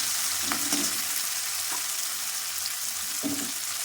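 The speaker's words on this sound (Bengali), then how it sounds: "পেঁয়াজ কুচনো লঙ্কা দিয়ে দিলাম, দিয়ে ভালো করে" Chopped onion and chili fry in hot oil with cloves and cinnamon, a constant loud sizzle close up, broken by a few scraping stirs of a spatula against the pan.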